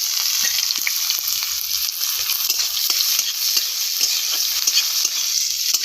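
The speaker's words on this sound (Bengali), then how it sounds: "আমি ভেজে নিচ্ছি" Dried red chillies, whole garlic cloves and onion fry in oil in a pan, a steady close sizzle broken by frequent short scrapes of stirring, with no voices.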